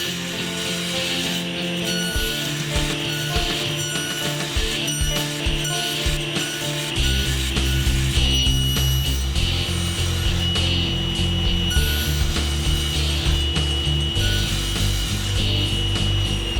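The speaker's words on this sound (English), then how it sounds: "I thought it would be a lot easier to just use the table saw with the table saw sled" A table saw fitted with a crosscut sled cuts slots in wood for a clamp rack, its motor running steadily with a loud, continuous whine and the blade grinding through the boards throughout, with no talking.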